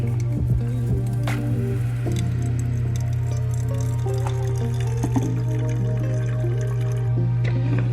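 Hot water pours steadily over a paper filter in a Chemex coffee brewer to pre-moisten it, a close, continuous trickling and splashing with a few small drips, heard alone.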